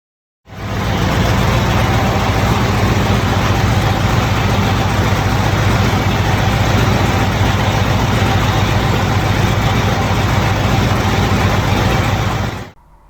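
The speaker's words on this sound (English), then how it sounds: "Nothing draws emotion like the sound of a V8" A big V8 diesel tractor engine rumbles at a steady idle for several seconds, loud and close, deep throbbing with no talking.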